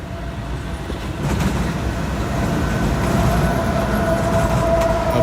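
A Norfolk Southern freight train, NS 228, passes on the Shenandoah line behind a GE Dash 9 lead locomotive. A broad, heavy rumble of wheels and cars grows steadily louder and holds close, with no voices.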